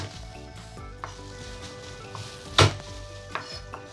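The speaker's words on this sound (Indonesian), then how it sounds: "di sini saya menggunakan 2 siung bawang putih. Ini digeprek ya" Garlic cloves being crushed and chopped on a board, a few soft knocks followed by one sharp loud smack, with faint kitchen clatter around it and no talking.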